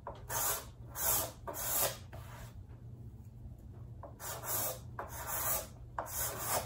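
A card scraper rasps across a rough wooden board in a series of short strokes, about six or seven close, quiet scrapes with a pause in the middle.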